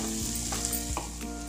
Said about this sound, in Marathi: आता तेल सुटेपर्यंत आपल्याला मसाला परतून घ्यायचा आहे